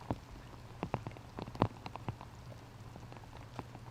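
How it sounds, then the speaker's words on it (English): Rain patters directly on an outdoor microphone at a 2023 disc golf tournament, the Music City Open, producing soft, irregular close taps and pops over a constant faint hiss. "You can just hear the rain coming down,"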